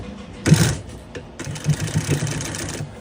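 An industrial sewing machine stitches upholstery in a shop. A brief whir comes first, then after a pause a steady, rapid mechanical hum with a pulsing rhythm runs for over a second, close and fairly loud.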